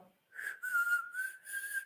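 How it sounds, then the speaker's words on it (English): A person whistles a short tune in a few sustained, slightly wavering tones, fairly close and moderately loud, with brief gaps between phrases and no talking. "You can whistle."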